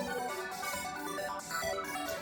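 A dense music track processed with heavy compression, sharp EQ cuts and OTT multiband compression, sounding full and pushed-forward with pulsing bright layers at steady loudness for a couple of seconds.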